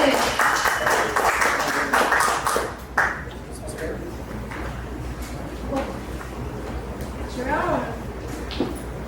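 Applause and clapping from an audience at an open mic celebration event fill the first few seconds, then fade into a quieter room where voices talk and music continues underneath.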